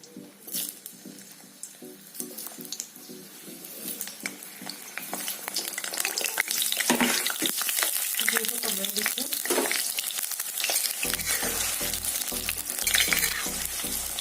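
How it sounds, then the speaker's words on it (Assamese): Potato pieces fry in hot oil in a wok. A quieter start swells into a loud, dense crackling sizzle with spatters and occasional stirring scrapes, and a low hum enters near the end. "সেয়া আলুকেইডোখৰ ভাজি লৈছোঁ।"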